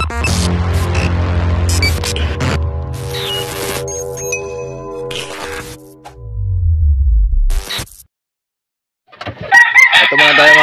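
Chickens at a backyard Philippine gamefowl coop, with a rooster crowing loudly and close in long drawn-out calls, hens clucking, a brief silence, then more loud crowing near the end.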